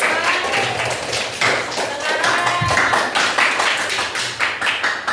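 Classroom applause for a student group's performance, several hands clapping in an uneven, moderately loud patter with a few sharper taps and a thump, with faint voices underneath.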